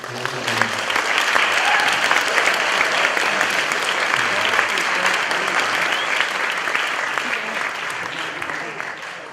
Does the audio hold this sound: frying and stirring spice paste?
no